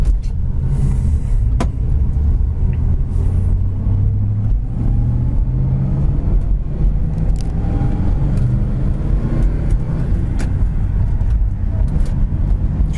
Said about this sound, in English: Transmission shifts great. Again, 3-speed on the tree. Second, third shifts very nicely.